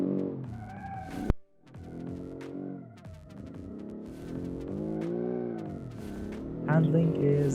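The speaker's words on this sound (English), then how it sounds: "Wow, powerful engine." A 1987 hot hatchback engine revs up hard during a test drive, a loud rising drone with shifting tones, briefly cut and then building again.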